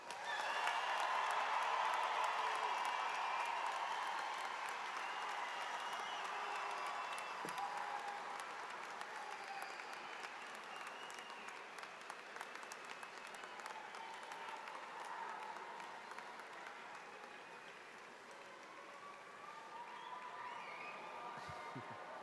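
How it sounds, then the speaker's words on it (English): A large arena crowd at a high school graduation at the Xcel Energy Center applauds the class of 2022: sustained, even clapping with scattered cheers, heard from a distance and lasting over twenty seconds. "Graduates, please give them a round of applause."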